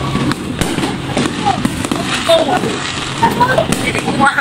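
Fireworks exploding during New Year celebrations, a dense run of crackling bursts and pops at moderate distance, with people talking and reacting over the noise.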